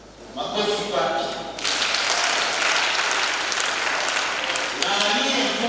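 A crowd bursts into applause for a child answering a first-communion question correctly at a church in Arusha, loud sustained clapping after a brief voice, fading back toward speech at the end.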